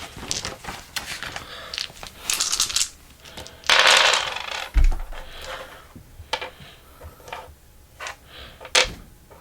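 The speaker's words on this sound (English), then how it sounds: "I gotta reroll all these dice" Board game dice being rerolled during a tabletop game, a few clattering bursts of rattling and tumbling onto a table, fairly close and loud, with a heavier thud midway and no talking.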